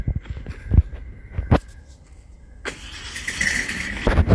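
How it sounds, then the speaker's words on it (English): A pickup truck engine cranks and catches: a few scattered thumps and door or movement sounds, a quieter pause, then a bright starter whir and the engine rumbling up, loud and close. "Wyatt, jump in the truck, let's go"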